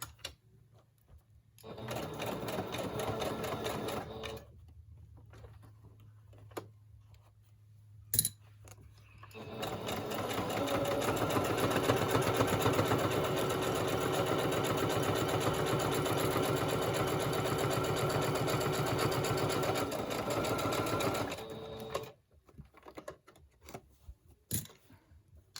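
A sewing machine runs in bursts while crafting Christmas projects: a short run, a pause, then a long steady whirring stretch as it back stitches, close and loud, followed by a few quiet clicks and handling sounds.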